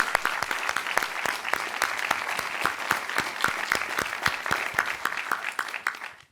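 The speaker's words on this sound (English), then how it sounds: "So a special round of applause." An audience at a fireside chat event claps in a warm, steady round of applause, with individual claps distinct and fairly close, then fading out at the end.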